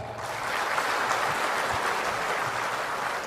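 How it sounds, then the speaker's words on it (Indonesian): Audience applause fills a large national working-meeting hall in Indonesia, a steady dense wash of many hands clapping at once that holds evenly loud throughout, with no talking over it. "Tepuk tangan untuk Sumatera."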